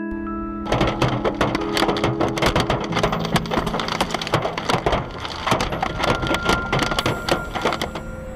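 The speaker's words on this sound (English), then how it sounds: "The storm shatters the back window." A car's rear window shatters during a violent storm, producing a dense, sustained barrage of loud cracking, splintering and crunching impacts that continues for several seconds.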